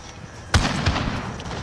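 Sniper rifle fire in the game Rust: one sharp, loud shot cracks out, then a second fainter report, each followed by a short echoing tail over low background noise.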